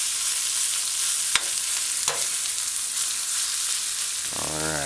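Mashed garlic hits hot oil already cooking onion and scallion for a fish baked beans stew, giving a bright continuous sizzle with two sharp clicks of a utensil along the way.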